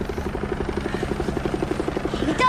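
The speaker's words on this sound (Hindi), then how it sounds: "अमिताभ का हेलीकॉप्टर" A helicopter in a Hindi film scene flies with a steady, rapid rotor chop, loud and close throughout the short stretch.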